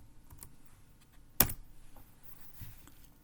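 Typing the gedit command into a Linux terminal window on a computer keyboard: a few soft keystrokes, then one sharp, louder key press near the middle and lighter taps afterwards, close up and with no speech.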